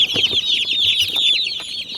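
About a hundred Cornish cross meat chicks cluck and chirp at once in a dense, continuous chorus, close by, with no one talking.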